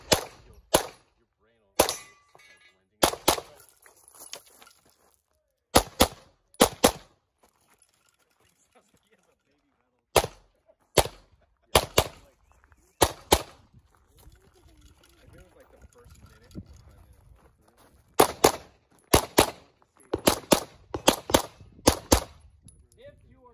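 Pistol gunshots on a Carry Optics competition shooting stage, sharp loud reports fired in quick pairs and bursts with short pauses between strings, under occasional nearby talk.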